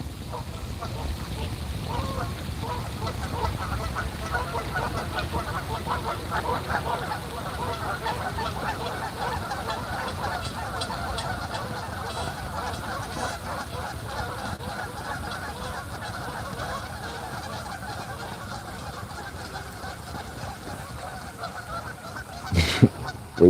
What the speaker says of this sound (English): you damn geese and ganders, boy